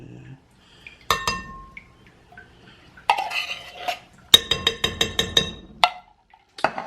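Lemon pie filling poured into little dessert dishes, with clinking of glass dishes and utensils in sharp irregular knocks and a quick run of ringing taps, close by and fairly loud.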